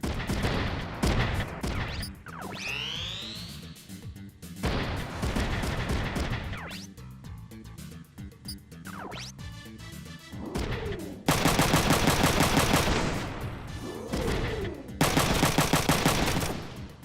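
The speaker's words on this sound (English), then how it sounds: "Missiles." Missile volleys fire in the mecha strategy game Front Mission 3, loud repeated bursts of launches and blasts with whooshing streaks between them, growing denser toward the end.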